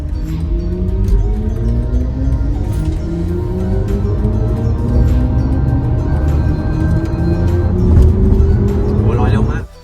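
A BMW iX3 electric car accelerates hard from 0 to 100 km/h, its motor whine rising steadily in pitch over heavy road and wind roar, loud and close from inside the cabin.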